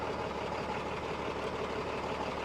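A ten-tyre lorry engine idling nearby, a steady low rumble with an even, unbroken drone and no talk over it.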